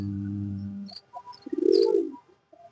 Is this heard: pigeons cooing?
yes